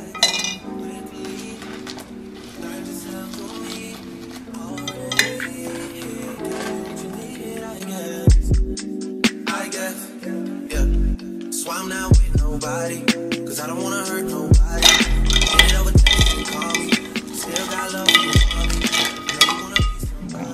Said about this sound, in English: white rocks from Walmart, and I'm going to add them to the bottom of the vase